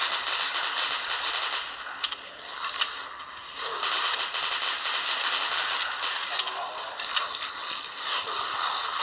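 Gunfire in the zombie shooter Dead Trigger comes as a few sharp, sparse shots poking through a dense, hissy wash of game noise and mechanical clatter.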